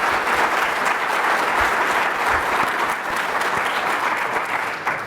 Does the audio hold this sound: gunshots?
no